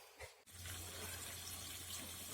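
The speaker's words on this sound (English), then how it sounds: "So I'm just going to rinse it out with water." Tap water running steadily over a reusable permanent furnace filter being rinsed, a brief clunk then continuous close splashing hiss.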